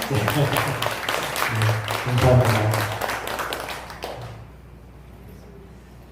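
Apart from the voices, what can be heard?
congregation applause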